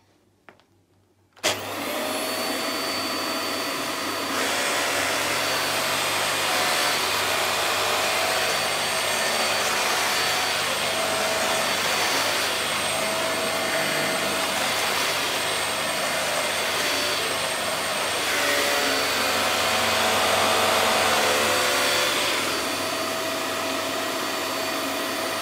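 VAX Air Stretch Pet Max upright vacuum cleaner switches on with a click and runs loudly on a wooden floor, a steady whining motor roar with slight shifts in pitch as it moves.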